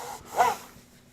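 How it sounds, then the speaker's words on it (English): A clean, dry rag wipes excess oil off a shotgun stock with one soft, brief rubbing swipe, close and quiet over a faint room hum. "I'm going to wipe this off with my clean and dry rag."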